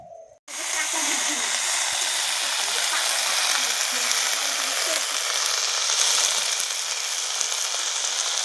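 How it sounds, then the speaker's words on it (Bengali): Food sizzles and fries steadily on a clay stove on a cold day, with mustard greens among the dishes being cooked; the broadband hiss starts abruptly after a brief quiet moment and stays loud and even throughout. "ঠান্ডাতে মাটির উনুনে রান্না চলছে।"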